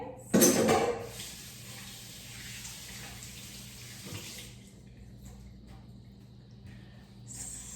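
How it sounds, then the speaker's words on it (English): Hands being washed under a running kitchen tap, a steady rush of water with a loud splash at the start, fading after a few seconds, with faint clinks of dishes nearby. "Let me wash my hands."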